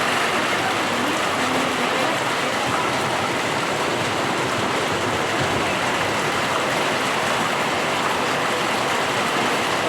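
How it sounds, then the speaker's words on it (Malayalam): Heavy rain pouring down in Muvattupuzha, a loud, dense, unbroken roar of falling water close by with no gaps throughout. "ഇതാണ് മഴ. അതിശക്തമായ മഴയാണ്."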